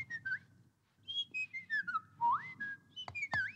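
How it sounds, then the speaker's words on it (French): A person whistles a wandering, sliding melody with rising and falling glides and a couple of sharp upward swoops, clear and close against a faint low background. "il se mit tout bonnement à siffler"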